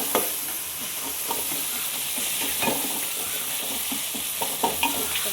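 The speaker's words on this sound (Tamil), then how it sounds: "தக்காளி நல்லா வதங்கட்டும்." Tomatoes sautéing in a hot pan, a strong steady sizzle punctuated by regular scraping strokes of a spatula stirring them, close up with no voices.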